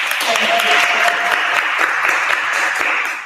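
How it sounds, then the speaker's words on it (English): Audience applause for a host at a PR and marketing event on luxury brands, a dense, steady wash of clapping that holds loud for about three seconds before easing off. "Can we give her a round of applause?"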